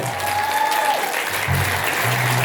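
An audience at a solo concert claps together in sustained, even applause that fills the whole moment, with a faint tonal hum underneath.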